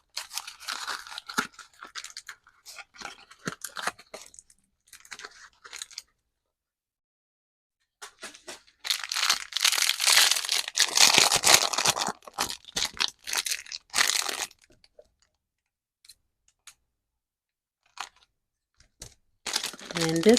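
Damaged cardboard and plastic packaging of a one-dollar miniature torn and ripped open by hand: sharp crinkling and tearing bursts, loudest in a long stretch mid-way, with quieter rustles and gaps around them, close up.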